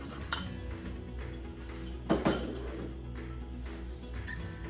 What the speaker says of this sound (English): We're just going to take a fork and you're going to mix that.